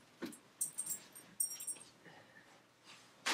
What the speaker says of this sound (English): So Gracie's a good dog